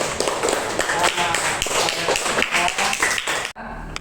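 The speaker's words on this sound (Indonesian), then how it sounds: "Terima kasih, tepuk tangan" Classroom applause in an Indonesian school lesson, many hands clapping together in a dense, steady patter for about three and a half seconds before stopping abruptly.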